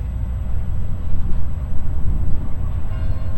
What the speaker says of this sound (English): little train rolling by over there,